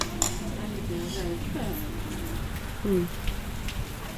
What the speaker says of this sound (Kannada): ಫುಲ್ ಎಲ್ಲ ಮಳೆ ಜೋರು ಬರಕತ್ತೈತಿ ಇಲ್ಲಿ